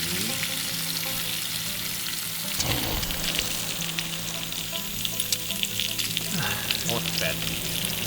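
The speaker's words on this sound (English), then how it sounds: "the team celebrates their last night of camping with some sizzling bacon" Bacon frying in a pan at a campsite on the last night of an off-road camping trip, a steady close crackling sizzle with popping spatters throughout, briefly louder partway through.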